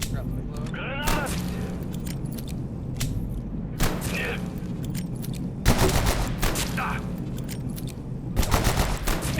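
A grenade goes off amid rapid gunfire in the video game Abiotic Factor, with several loud broadband blasts spread across the clip over a constant din of shots, and voices talking throughout.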